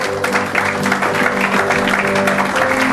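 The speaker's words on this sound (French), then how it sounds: "On acclame le Seigneur." A church congregation claps and cheers to acclaim the Lord, dense rhythmic applause filling the room with a steady bright patter, sustained throughout with no talking.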